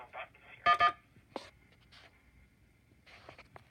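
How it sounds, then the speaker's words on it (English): Touch-tone DTMF buttons pressed on a phone line carried over a VoIP tandem trunk, giving a few short separate beeps with quiet gaps and faint line noise, spread over a few seconds. "You don't actually hear much of an echo when you press the touch tone buttons here."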